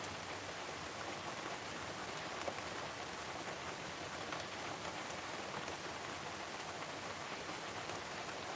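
Steady rain falls outdoors ahead of an incoming storm as a constant, even hiss of drops on surfaces, unbroken and moderately faint, with a few sharper drips.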